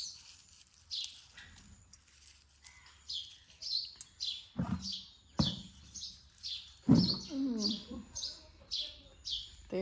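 Sparrows chirp in a home setting, a steady series of short, bright tweets repeating about once a second, with a few louder, closer bursts and some background clatter.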